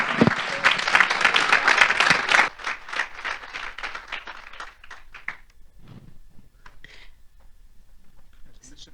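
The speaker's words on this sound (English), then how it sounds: "Let's have a little round of applause for Amy Gillespie." Audience applause after a presentation at the AWC 2016 conference: a loud burst of many hands clapping for about two seconds, then thinning out into scattered claps as voices take over and people talk.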